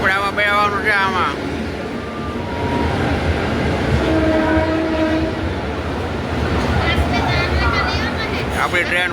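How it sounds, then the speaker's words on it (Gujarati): A passenger train pulls into a station in Assam with a rumbling, rattling rolling noise and a faint horn, under the chatter of nearby people. "આપણી ટ્રેન બાને આવી ગઈ"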